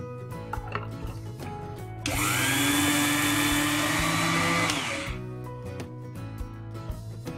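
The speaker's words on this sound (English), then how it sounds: "I have soaked half a cup of long grain rice, which I'm going to grind a little coarse." Soaked long grain rice being ground coarse in an electric kitchen grinder for phirni, a loud sustained whirring grind of about three seconds that rises sharply and cuts off, with quieter kitchen noise before and after.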